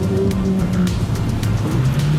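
A 2014 Renault Megane RS 275 Trophy driven hard, its engine droning loud and continuous with shifting pitch, road and wind noise underneath and no talk.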